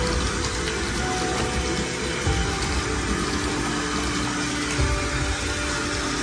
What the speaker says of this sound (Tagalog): Lagyan lang natin na more hot water.